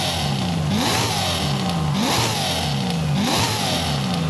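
A Corvette ZR1 V8 in Forza Horizon 5 revved while parked, three sharp throttle blips rising and falling at roughly one-second intervals, loud and close with no talk over it.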